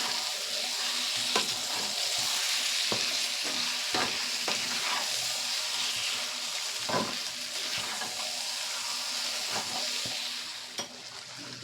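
Pieces of Bombay duck fish fry in a pan with a continuous loud sizzle and hiss while a utensil stirs them, scraping and tapping at an uneven rhythm throughout.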